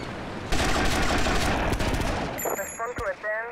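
Rapid pistol gunfire in GTA Vice City, a dense burst of shots for about two seconds, followed by scattered game sounds and a voice speaking.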